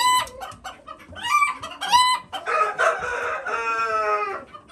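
A rooster from the previous year penned with a black hen and splash hens crows loudly and close while the hens cluck in quick, busy bursts, with no talk.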